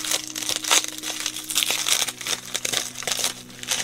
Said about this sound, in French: Donc je déballe.